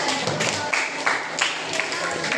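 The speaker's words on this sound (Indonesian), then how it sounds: "tepuk tangan dulu" A classroom audience applauds after a student presentation, with steady, dense clapping that fills the space evenly throughout.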